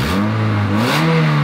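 A racing Toyota Corolla engine with an exhaust manifold leak revs loud and close, its raspy drone rising in pitch and then holding higher, with a ticking, leaky edge.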